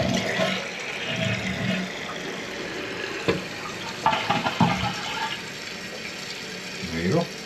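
After a repair, a toilet tank refills with water, giving a soft, steady hiss and trickle beneath a few thumps and handling noises, with someone talking now and then.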